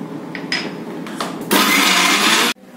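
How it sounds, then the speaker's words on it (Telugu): A kitchen mixer grinder blends tamarind and salt for chutney: a few short pulses, then a loud continuous whirring burst of about one second that stops abruptly. "ఈ 2 కూడా వేసి మిక్సీ చేద్దాం"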